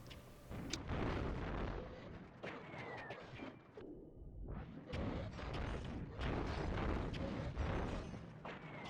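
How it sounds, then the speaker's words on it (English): Fire breath attacks in The Legend of Spyro: A New Beginning, a dense run of booming fiery explosions and bursts that rolls almost without pause and dips briefly near the middle before surging again, loud and close. "we continue onwards and take out a bunch more enemies with our fiery explosions"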